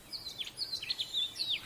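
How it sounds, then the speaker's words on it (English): Small birds sing outdoors, quick faint high chirps and short trills repeating in a quick irregular string with no talking. "I hear the birds now."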